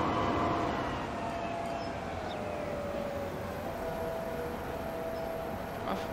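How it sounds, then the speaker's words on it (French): Trains running in the Transport Fever 2 simulation game, a steady continuous rumble with a long tonal whine sliding slightly in pitch, holding loud throughout without any talk. "du coup on a pas mal de trains qui commencent à rouler là"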